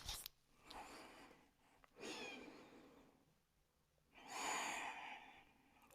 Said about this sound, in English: Taking some breaths